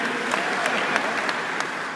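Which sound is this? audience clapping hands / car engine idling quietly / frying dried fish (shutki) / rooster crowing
audience clapping hands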